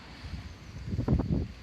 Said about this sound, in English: let's take a very, very quick look under the bonnet, although it will be quite windy, viewers